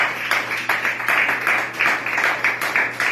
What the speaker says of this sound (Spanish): Si usted le quiere darle fuerte el aplauso al Señor en esta mañana